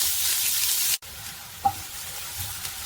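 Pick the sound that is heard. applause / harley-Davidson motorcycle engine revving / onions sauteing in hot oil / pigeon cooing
onions sauteing in hot oil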